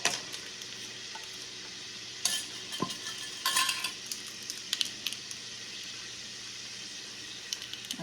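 Melting butter with added vanilla and salt in a pan, stirred while cooking for rice crispy treats: a soft steady sizzle with occasional clinks and scrapes of a utensil against the pan.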